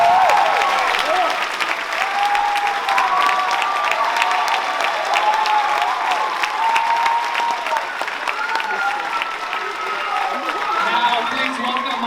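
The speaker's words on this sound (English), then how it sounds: "Keep the applause going for JT SINGH." Sustained, loud audience applause fills a comedy show venue for the whole stretch, with dense clapping and some cheering and crowd voices mixed in, steady from start to finish.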